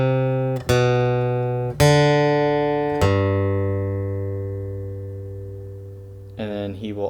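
Acoustic guitar playing a song intro: three strummed chords ring out one after another, each left to sustain and decay, with a brief spoken word near the end.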